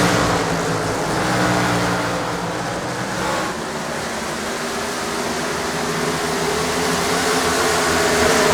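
An Xfinity Series stock car engine in iRacing at Dover, driven hard through the corners: a loud, sustained engine roar with slight swells in pitch and no talk.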